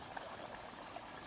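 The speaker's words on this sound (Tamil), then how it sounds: "நம்ம இதாங்க செகண்ட் தண்ணி விடுறோம்" Water pours steadily into a peanut field for the crop's second irrigation, a soft continuous rushing stream, faint and unbroken throughout with no voices.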